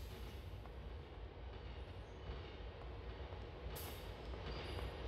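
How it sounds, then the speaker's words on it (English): Subway train from GTA IV rumbling along at a steady, moderate level, with constant low wheel and track noise and a brief brighter hiss near the end, no voices. "This is a train"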